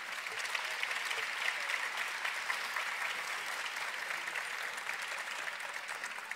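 Steady, dense applause from a graduation audience at a spring 2024 postgraduate ceremony, honoring a graduate named María Guadalupe, sustained evenly throughout at a moderate distance.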